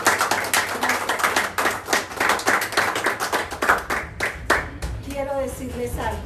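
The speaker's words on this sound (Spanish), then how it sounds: "Levantémosle un aplauso al Señor." A church congregation claps in a brisk, rhythmic beat that fills the room for several seconds, then thins out as a voice begins speaking near the end.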